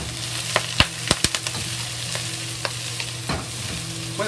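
Collard greens and scallion fry in a hot pot, making a steady sizzle broken by several sharp clicks and scrapes as a utensil stirs the greens.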